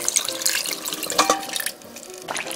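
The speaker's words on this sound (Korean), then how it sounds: "국물을 쪼르륵 넣어주세요." Yeolmu mul-kimchi broth, blended with garnish, poured into a container packed with young radish greens, a light trickling splash of liquid running for a couple of seconds close by.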